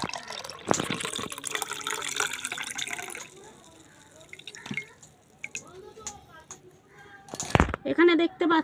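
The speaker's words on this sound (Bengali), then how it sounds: "এইবারে এটাকে এই জলটাকে এর মধ্যে ছেঁকে দিয়ে দেব" Water being strained over Noor fruit and gondhoraj lemon, with trickling and dripping liquid pouring into a vessel, intermittent splashes and drips, close by, with a voice speaking over parts of it.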